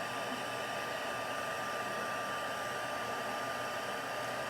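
A heat embossing tool blows a steady, even hiss of hot air over embossing powder on paper butterflies, a constant fan-like whoosh with no breaks and no voices.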